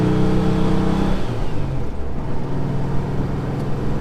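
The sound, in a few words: car engine running rough with an intermittent fault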